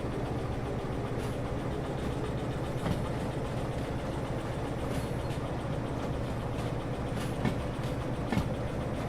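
Railway wagons being shunted in the Derail Valley train simulator game, a steady rumbling roll under a low engine hum, with scattered faint clanks and clicks and no talking.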